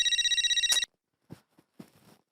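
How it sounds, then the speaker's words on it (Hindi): A phone rings in a rapid trilling burst for under a second, then stops; a few quiet thumps and rustles follow. "जेठालाल का फोन"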